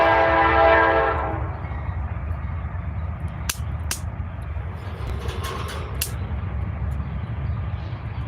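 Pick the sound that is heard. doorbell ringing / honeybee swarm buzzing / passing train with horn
passing train with horn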